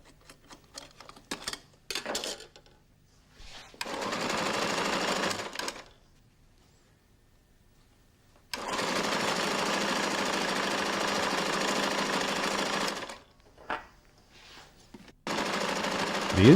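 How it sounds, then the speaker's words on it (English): A Flexorand Speedbinder machine sewing carpet skirting strips on a table, with loud rapid stitching bursts of several seconds separated by quiet gaps and a few short stuttering starts. "The Speedbinder sews about 3 to 4 metres of skirting strip in a minute, about 200 metres an hour."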